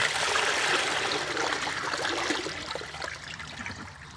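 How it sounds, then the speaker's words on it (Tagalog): Steady rush of water pouring and splashing into a horse trough close by, continuous for several seconds and easing slightly toward the end. "Lagyan natin ng tubig."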